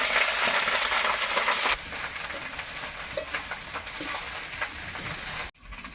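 Rice tipped into a hot pan of ghee with bay leaves, cardamom and crushed cloves for wedding-style fried rice, giving a loud steady sizzle, a sharper rustle as the grains drop, then quieter stirring scrapes and a brief knock at the end.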